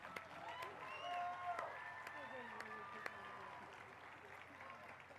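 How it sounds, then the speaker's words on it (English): A college commencement audience applauds faintly in a large hall, a thin wash of distant clapping with a few sharper claps and voices scattered through it. "Now you can applaud."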